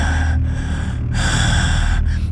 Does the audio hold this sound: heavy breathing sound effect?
yes